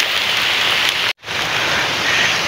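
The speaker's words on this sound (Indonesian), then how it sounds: "Sudah hujan, saya harus segera bergegas pulang." Heavy rain pours down steadily at a fishing spot, a dense close hiss of drops on surfaces, briefly cut by a split-second gap before resuming.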